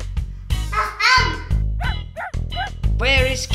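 A high, yappy voice answers with a run of barks and whimpers in quick bursts, a person imitating a puppy barking rather than a real dog.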